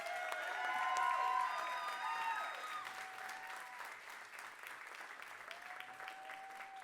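Audience applause at the OMAs 2022 award show at the Biltmore Theatre, a dense, moderately distant wash of clapping heard under bright tonal sounds and musical notes, swelling early and then settling to an even level.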